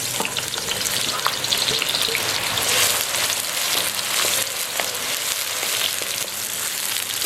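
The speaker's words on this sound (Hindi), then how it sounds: "इसके अंदर हम प्याज शामिल कर लेते हैं।" About a cup of hot oil with onions added for street-style korma, giving a loud, steady close sizzle and crackle with stirring clatter throughout and no talking.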